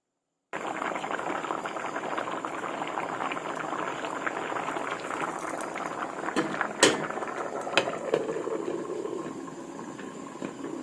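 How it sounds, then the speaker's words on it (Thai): Pickled sour bamboo shoot curry with catfish bubbles steadily in a covered pot, a continuous close boiling hiss with a few sharp clinks and knocks near the end. "แกงหน่อไม้ให้สุกก่อนนะคะ ต้มไปสักพักหนึ่งนะคะ"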